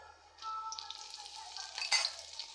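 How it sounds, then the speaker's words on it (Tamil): Urad dal and dried red chillies frying in oil, giving a steady, quiet hiss and crackle of sizzling that swells briefly near the end. "உளுத்தம் பருப்பு நல்லா பொன்னிறமானதும் காஞ்சி மிளகாய் சேர்த்துக்கலாம்"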